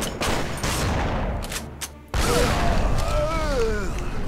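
Sustained gunfire in The Punisher video game as shots hit barrels, a dense loud barrage that briefly drops off and then resumes, with voices talking over the shooting.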